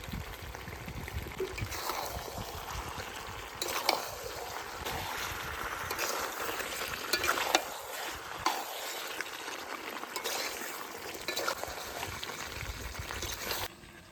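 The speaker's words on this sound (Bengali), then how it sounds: "আলু আর লবণ দেওয়ার পরে মাংসটা একটু কষিয়ে নিয়েছি" Chicken sautéed with fried potatoes and salt for a Bengali chicken kosha, a continuous bubbling, hissing pan sound with intermittent scrapes and stirring bursts, steady and moderately close throughout.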